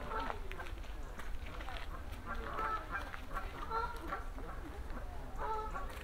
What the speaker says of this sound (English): Some Canada geese, the distant descendants of these critters.